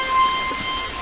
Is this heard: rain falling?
yes